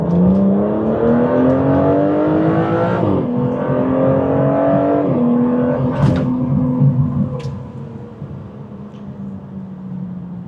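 A 2025 Aston Martin Vanquish accelerates at full throttle on a wet night in Miami, its engine note rising loud and close through a gear change or two before easing back to a lower hum.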